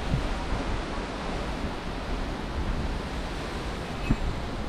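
Strong, steady wind blowing by the sea during a typhoon, a broad continuous roar with surf-like rumble and a brief gust or thump near the end, no voices.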